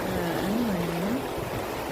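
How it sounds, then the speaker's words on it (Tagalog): Ocean waves surge against the rocks at Canal Rocks, a steady, broad wash of rushing water that stays loud throughout, with a faint voice drifting over it. "halos gusto na kami basahin dahil tumataas yung alon talaga."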